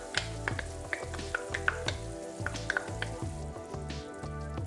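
Chickpeas and chorizo frying in a pan with paprika, sizzling steadily while a utensil stirs and scrapes through them, producing repeated soft clicks and taps over the constant crackle, fairly quiet and close.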